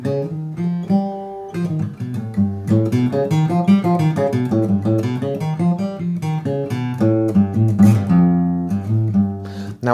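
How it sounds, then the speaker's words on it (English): A whole tone scale, made only of whole steps, played as a flowing run of melodic notes over sustained harmony. The line is busy and continuous for about ten seconds, heard alone without any speech. "one of them is the whole tone scale"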